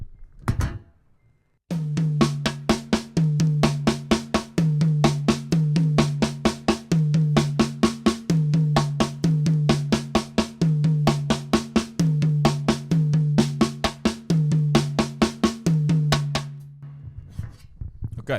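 Drum kit playing a repeating sixteenth-note pattern grouped six, six, four, struck crisply and evenly in a steady looped cycle, loud and close without talk.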